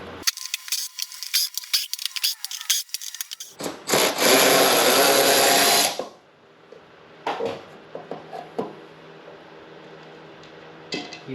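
Tools working on a Yamaha Phazer snowmobile engine cover: a ratchet clicks in quick bursts, then a loud continuous power-tool whir for about two seconds, followed by scattered metallic clinks and taps.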